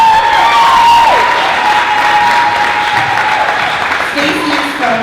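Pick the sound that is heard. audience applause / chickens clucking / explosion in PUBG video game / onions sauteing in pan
audience applause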